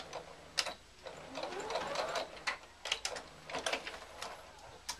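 A domestic sewing machine runs a small straight stitch along fabric for a tissue box cover, back tacking at the end. Short, close mechanical bursts of stitching come with brief pauses and clicks in between, and no talk.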